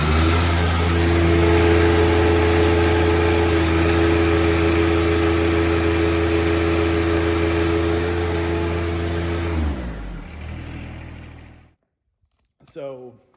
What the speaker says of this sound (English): I'm going to jump it up to full throttle now.